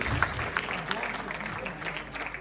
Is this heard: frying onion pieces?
no